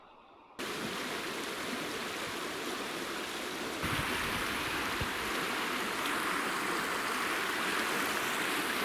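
A forest stream flows into the Shchugor river in the taiga, a steady loud broadband rush of water that starts abruptly and continues unbroken, growing slightly fuller partway through, with no voices.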